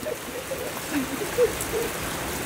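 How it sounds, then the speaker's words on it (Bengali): A steady, soft hiss of rain falling outdoors fills the clip with an even wash of sound and a few slightly louder drips. "এখন বৃষ্টিতে ভিজছে"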